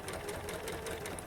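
Sewing machine stitching a quilt block seam, a quick, even run of rapid needle clatter, brief and fairly faint, with no talking.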